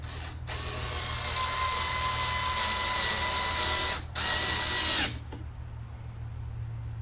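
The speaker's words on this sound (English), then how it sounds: "Put the 2 screws in there." A power driver whirs in two steady bursts, driving a pair of screws to attach the handle on a Shop-Vac 5.5 HP wet/dry vacuum, with a low hum between and after.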